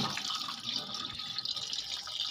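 Tap water pours steadily as marinated chicken pieces are washed by hand for pakora, with a close, continuous splashing stream and small sloshing bursts.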